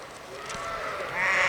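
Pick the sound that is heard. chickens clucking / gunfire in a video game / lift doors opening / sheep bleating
sheep bleating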